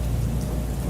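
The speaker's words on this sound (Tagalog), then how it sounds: "Masyado nang malakas ang ulan." Heavy rain pours steadily with a deep rumble of thunder underneath, a dense, continuous downpour sound effect for an audio drama.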